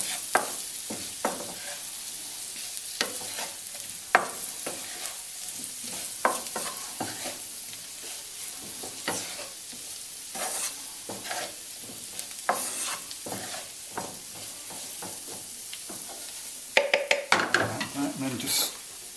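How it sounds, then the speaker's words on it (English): Paneer pieces coated in turmeric and spices get tossed and stirred in a hot pan, a steady sizzle under repeated scraping and clattering strokes, growing louder and busier with rapid clinks near the end. "So once you've separated all the little bits of paneer, just give it a good toss."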